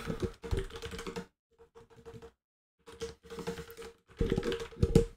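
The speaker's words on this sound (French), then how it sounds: "je suis en train d'écrire en clavier US" Bursts of typing on a computer keyboard with a US layout, rapid clustered keystrokes in three runs separated by a quieter pause with a few scattered taps, fairly close and clear with no talking.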